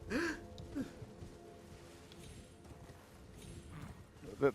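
Clip-clop of horse hooves in the video game Elden Ring, several soft irregular footfalls at moderate distance, with a brief vocal sound mixed in.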